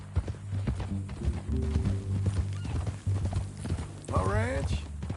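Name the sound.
horse hooves and neigh in Red Dead Redemption 2 video game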